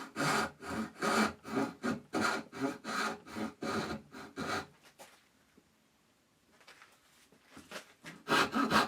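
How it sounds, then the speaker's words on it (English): Hand saw cutting wood for a box hinge, a quick series of close rhythmic strokes for about five seconds, then near silence before the sawing starts again. "I cut to just above the depth, and I can adjust the final bit later."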